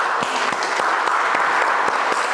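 A workshop audience gives a round of applause, dense steady clapping filling the room with a few sharper claps standing out.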